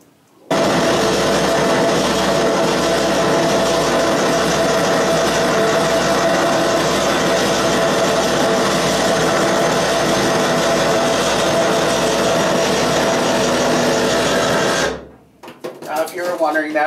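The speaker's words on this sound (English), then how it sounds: "start up one of the engines for you so you can actually hear one of the Fairbanks Morse engines" Recorded Fairbanks Morse submarine diesel engine running, a loud, steady heavy drone with pulsing low rumble and a faint whine, holding constant for about fourteen seconds before cutting off abruptly, followed by brief scuffing.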